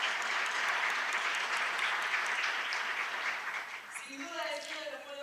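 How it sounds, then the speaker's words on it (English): Audience applause in a hall at a business forum: broad, even clapping from a large crowd that thins out near the end as a voice starts speaking. "which warrants a huge round of applause"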